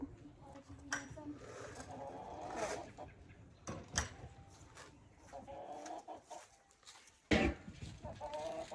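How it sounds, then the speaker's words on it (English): A chicken hen under a deck clucks and squawks in loud, irregular bursts over a noisy outdoor farm background, with one sharp squawk near the end. "if you hear chicken, I think it's Rebel, under the deck and she's squawking"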